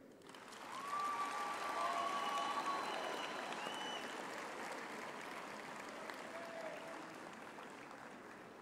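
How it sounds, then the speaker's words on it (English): Sustained, dense applause from graduates at a university education faculty graduation ceremony, honoring their families and friends; it swells after a second, holds steady and stays loud throughout with no speech. "I would like to request the graduates to actually applaud their families, friends, spouses, and all their support structures."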